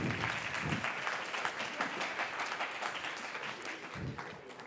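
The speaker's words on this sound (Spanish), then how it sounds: "un aplauso para estos ayudantes" An audience of children and adults applauds helpers at a kids' science talk, a fairly quiet, even patter of clapping lasting a few seconds with a couple of low thumps.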